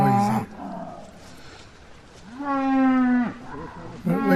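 Cattle lowing in a field on a countryside ramble in Arkholme, with several loud, drawn-out moos close by, separated by quieter pauses with outdoor background.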